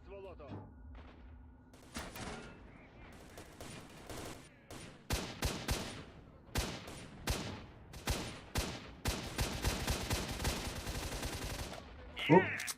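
Gunfire in the video game STALKER: Shadow of Chornobyl: rapid bursts of automatic rifle fire, sharp and close, growing denser toward the end, with a player talking faintly under the shooting.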